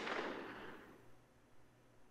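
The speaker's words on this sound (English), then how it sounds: "The thunder of a gunshot struck into my heart." A gunshot in the Steam Prison video game: a single distant boom with a soft, diffuse crack that fades into a long rumbling tail, heard alone and fairly quietly.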